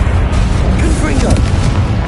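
Repeated Confringo fire-spell blasts from the game Hogwarts Legacy make a dense, continuous booming rumble, loud and close, with a faint voice over the top.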